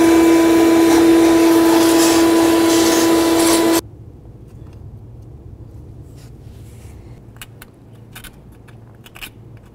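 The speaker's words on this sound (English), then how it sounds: "Let's go ahead and vacuum this off." A loud vacuum whines steadily up close for a few seconds, cleaning the engine gasket area of a Ford Expedition, then cuts off, leaving quiet scraping and small clicks.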